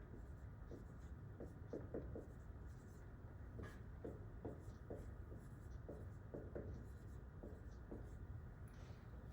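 Marker or chalk writing on a board during a chemistry lesson on balancing equations, a series of short scratchy strokes in irregular bursts, close and fairly faint over a steady background hum.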